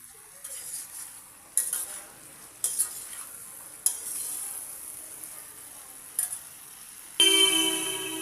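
Eggplant frying in a kadai gives a constant soft sizzle, punctuated by a handful of sharp metal clanks and scrapes as a ladle stirs the pan, with a louder, harsher burst of sizzling at the end and no speech.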